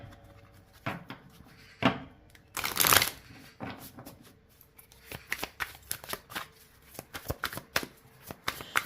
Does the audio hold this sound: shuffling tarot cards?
yes